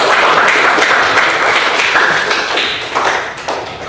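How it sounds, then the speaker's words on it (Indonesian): Applause from students in a classroom, a loud, dense burst of clapping that holds steady and then thins out slightly toward the end. "Tepuk tangan dulu untuk"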